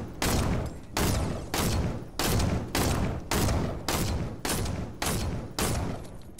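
Video game gunfire from a team rumble match comes in a string of about eight loud, evenly spaced bursts, each a sharp crack with a short ringing tail, near and with no voices.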